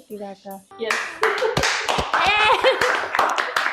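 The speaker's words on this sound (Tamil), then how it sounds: "அண்ணாக்கும் மிகப்பெரிய கரகோஷங்கள் இருக்கு" Applause and hand clapping from a group at a Pongal celebration, with sharp, loud claps bursting out under and between lively talk and shouting close to the microphone.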